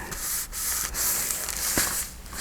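Rubbing a finished shaker card down firmly by hand to seal its edges, a continuous close scratchy friction with brief pauses, no talking.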